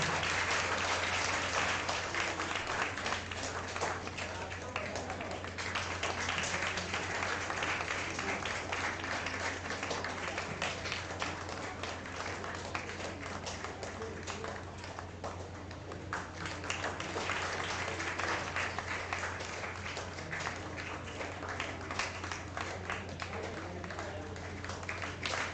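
Sustained applause from an audience at a special lecture on workplace stress and mental health fills the whole span, a steady dense wash of many hands clapping with an even, unbroken level throughout.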